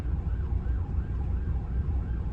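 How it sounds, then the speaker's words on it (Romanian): A wailing ambulance siren rises and falls repeatedly in the distance, heard over the steady low rumble of a 2006 Opel Zafira B 1.9 CDTI interior. "Văd că acum îmi vine o ambulanță."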